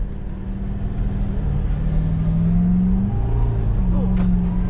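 A 4x4's engine revs hard as the car churns through soft beach sand on Fraser Island, a loud close drone that rises in pitch and strains, with a brief voice underneath.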